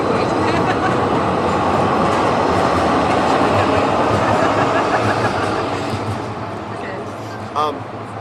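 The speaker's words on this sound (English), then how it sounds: "should I wait for the train?" A passing train roars close and loud, its steady rumble and rattling wheels filling the whole stretch, easing slightly toward the end with a brief metallic squeal.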